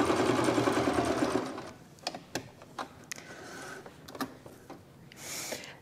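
A sewing machine runs a slow zigzag stitch for a handmade medicine bag, whirring steadily for about a second and a half before stopping, followed by scattered light clicks and taps.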